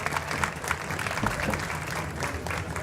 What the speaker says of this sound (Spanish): Va para el gran Óscar Collazos un aplauso y un abrazo bien fuerte.